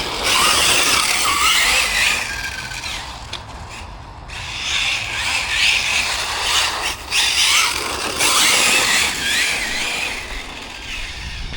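A Hobao TT2.0 RC car running on a HobbyKing 3S or 4S battery whines loudly and continuously as it drives, with brief dips and surges when the brake is dabbed.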